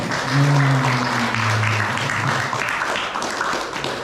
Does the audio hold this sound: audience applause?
yes